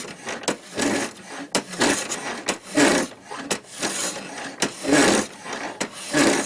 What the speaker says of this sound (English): It's like sharpening a knife.